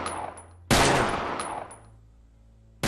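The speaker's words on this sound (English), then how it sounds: "There were definitely 4 shots." Gunshots ring out, a loud sharp report with a long echoing tail following fainter earlier cracks, and another shot starting right at the end.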